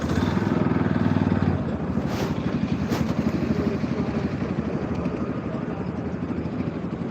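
A motorcycle engine drones on a road at night near a river bridge in Khulna, a steady rumbling buzz that stays fairly constant and moderately loud, with no speech over it.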